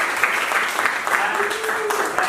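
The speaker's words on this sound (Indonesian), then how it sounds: "Tepuk tangan untuk David." A classroom gives David a short round of applause, a steady patter of clapping with voices talking over it for about two seconds.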